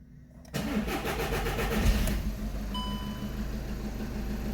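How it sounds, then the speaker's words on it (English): A 2012 Seat Ibiza engine cranks briefly and catches, then settles into a steady, close idle hum, with a faint high electronic whine appearing as it runs. "So I'm going to start the vehicle."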